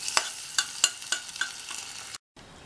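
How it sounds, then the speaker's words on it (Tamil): A spoon stirs tempering of green chili and curry leaves into vermicelli pongal, scraping the pot in regular, close strokes over a soft sizzle before a brief sudden gap. "தாளிப்பு சேர்த்ததுக்கப்புறம் நல்லா ஒன்று போல் மிக்ஸ் பண்ணி விட்டுறலாம்"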